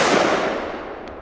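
A Megatresk firework, billed as among the loudest in Belgium, goes off with a sharp, loud outdoor blast whose broad roar decays quickly over about a second.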